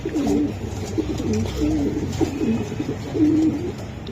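A young black female racer pigeon cooing in soft, repeated low bursts, close by, with faint background rustle and no talking.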